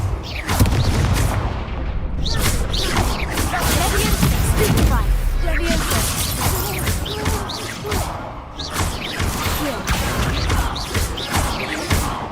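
An Expulso explosion spell goes off in the Hogwarts Legacy video game, a loud booming blast with crashing impacts amid dense battle noise, while a voice shouts over the fighting.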